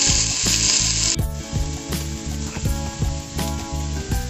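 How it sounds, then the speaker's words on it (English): Onions sauté in a hot pan for a carrot ginger soup, a steady close sizzle with rhythmic scraping and stirring strokes throughout. "drop in our onions. We're going to saute these until they're translucent."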